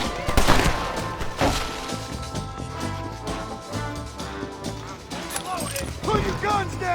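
Repeated gunfire from enemies in the Red Dead Redemption video game, set in a Wild West shootout. The bursts are steady and fairly loud over background music and game noise, with someone talking over them.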